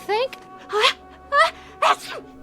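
A sneeze in a radio drama, set among several short vocal bursts from actors, with voices close and clear.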